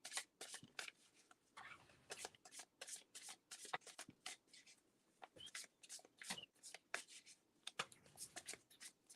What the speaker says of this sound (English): Just love how these cards shuffle too.